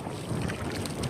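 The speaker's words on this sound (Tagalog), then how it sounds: "Malakas na naman yung amihan." Strong northeast monsoon wind buffets a small boat at sea, a steady loud roar of gusts and microphone wind noise with water rushing beneath, no voices.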